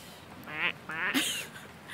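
Ducks by the water quack a few times, close and fairly faint, in short raspy calls over quiet ambience.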